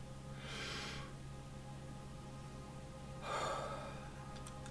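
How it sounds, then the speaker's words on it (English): A deep inhale and later a long exhale during a guided centering exercise, two soft breathy swells separated by quiet, close to the microphone over a low steady hum. "We're going to take a deep breath"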